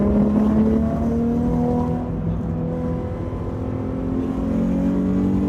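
A car pulling hard on a track day lap, engine droning loudly and steadily with tones rising as it accelerates, heard continuously from close by with no talking.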